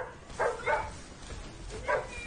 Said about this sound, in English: Sounds like a very unhappy puppy right now.